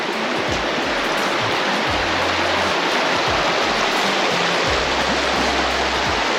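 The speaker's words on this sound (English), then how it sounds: "See that the Whitewater River is running pretty good." The Whitewater River runs high through a southern California desert canyon, a loud, constant broadband rush of water with a few low thumps underneath.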